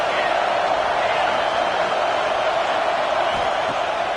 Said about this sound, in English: They'll try to quiet this crowd by moving the sticks on 4th down.